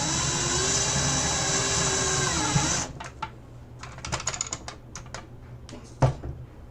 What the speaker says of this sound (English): Drill this self-tapping choocher in.